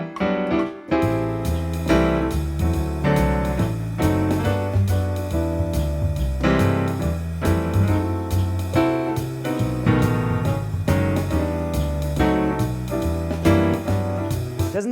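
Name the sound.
piano block chord voicings in George Shearing style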